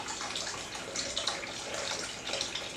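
Fresh greenhouse kale rinsed under a running kitchen tap, a steady close hiss of flowing water splashing over leaves, with no talking.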